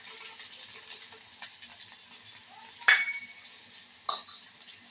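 Chillies and peanuts frying and being stirred in a pan, a steady soft sizzle with a couple of sharp clinks of a utensil against the pan near the end, no talking.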